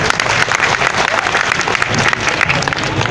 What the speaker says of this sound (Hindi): ताली बजा के उनका स्वागत